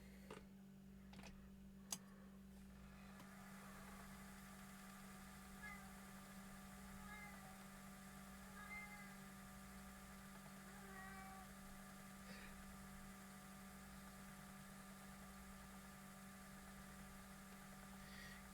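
A cat meows repeatedly at night, faint and somewhat distant, its calls rising over a steady mains hum and soft ticking, with no talking.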